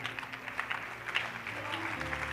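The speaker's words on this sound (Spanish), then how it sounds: "dale denle un aplauso al Señor" A church congregation applauds during a worship service, with quick, scattered claps over a sustained musical tone, fairly near and steady for a couple of seconds.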